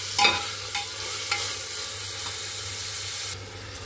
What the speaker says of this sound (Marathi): आता चांगलं सगळं हलवून घेते